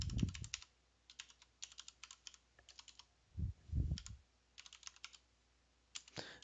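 Someone types a password on a computer keyboard: short bursts of quick, crisp keystrokes heard close up, separated by pauses and a couple of soft thumps, in an otherwise quiet room.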